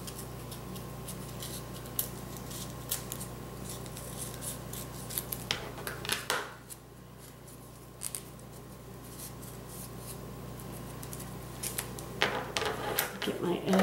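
Scissors snip paper while a paper accordion ornament is trimmed, a series of short, close crisp cuts scattered across the stretch, with a voice talking quietly in between.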